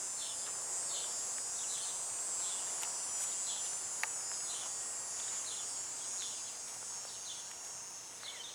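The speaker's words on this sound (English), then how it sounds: "Cicadas" Cicadas drone in a July garden, a steady high buzzing chorus with a repeating pulsed chirp over it, continuous and fairly close, with no voices.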